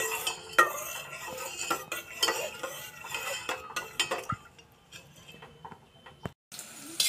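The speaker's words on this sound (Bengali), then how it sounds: "নেড়ে দিই।" A spoon stirs milk that is heating in a cooking pot, making close, repeated clinks and scrapes against the metal in an uneven rhythm, heard alone without talking.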